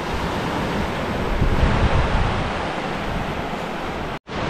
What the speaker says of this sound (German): gleich viel mehr Wellen, andere Wellen, starke Wellen hier